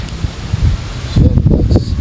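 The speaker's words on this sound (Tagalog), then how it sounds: "Malakas ang hangin, malamig pa." Gusty, cold wind buffeting the microphone in Lipa, with loud low rumbles and rustling that swell in the second half.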